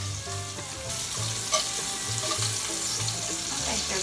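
Salisbury steak patties sizzling in a pan, a loud, steady close-up frying hiss with faint crackles and a small clink partway through, no talking.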